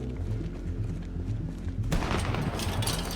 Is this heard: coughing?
no